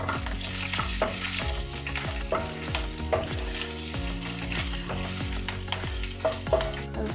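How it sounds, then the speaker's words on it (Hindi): Sliced ginger and green chillies sizzling in a pan for Kashmiri dum aloo, a steady close frying crackle broken by a regular rhythm of spoon-scraping stirring strokes, no talking. "इसे हम थोड़ा भून लेंगे और इसमें हम डालेंगे हरी मिर्च,"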